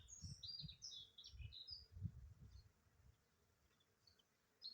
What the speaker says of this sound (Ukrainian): З усього району бджоли сюди прилетіли.